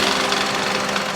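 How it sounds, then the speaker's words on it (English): Engine bay of a 2007 Honda CR-V running with a steady, loud, harsh mechanical drone and rattle, consistent with a worn squealing belt, heard up close without talk. "the sound that the motor is making up here sounds like a squealing belt"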